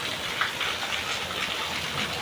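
Heavy rain pours down in a continuous broadband hiss of falling water and spattering drops. The downpour is close and steady and heard alone.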